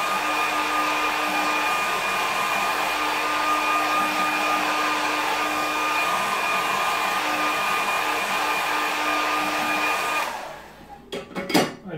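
A hair dryer blows on wet watercolour paint of a coastal scene, a steady loud whirring drone that runs for about ten seconds before cutting off, followed by a few brief clicks and knocks.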